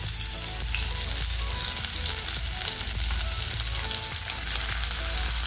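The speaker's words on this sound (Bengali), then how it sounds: "মশলাটা থেকে যখন ভাজা গন্ধ বেরোবে তখন আমি এখানে দিয়ে দেব হচ্ছে কিছুটা পরিমাণে পেঁয়াজ কুচি" Chopped onion fries in oil with whole spices for a palak chicken, giving a dense, loud, steady sizzle with faint stirring scrapes, close and uninterrupted.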